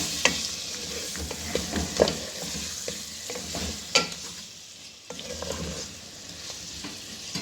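Tomato and spices fry in a pan for bathua aloo saag, a steady close sizzle broken by the scrape and clack of a spoon stirring, with no talking.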